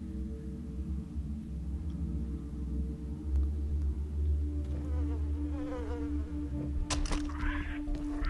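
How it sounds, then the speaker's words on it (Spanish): A swarm of flies buzzes around a nest in the video game Far Cry 3, a dense, droning hum that holds steady throughout, with a brief sharper game effect near the end. "Que ven ese nidito ese de moscas."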